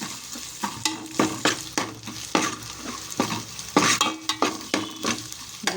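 Onions and crushed ginger fry in a pan with a steady close sizzle, broken by repeated scraping stir strokes at an irregular rhythm, with no voices.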